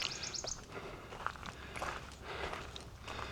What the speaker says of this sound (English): the birds are amazing.